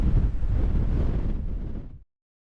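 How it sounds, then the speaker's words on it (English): Strong, steady wind buffets the microphone outdoors at the Hopewell Mound Group earthworks, a loud continuous roar that cuts off abruptly after about two seconds. "looking east, where I might roll like a tumbleweed with this wind"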